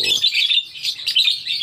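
A pair of lovebirds chirps in quick, shrill, overlapping bursts, close and bright, with a brief low voice at the very start.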